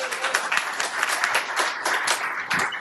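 An audience applauds at the Red Special Meetup 2021, a guitar enthusiasts' gathering. Many hands clap with crisp, slightly uneven bursts in a continuous round that stays fairly loud from start to finish.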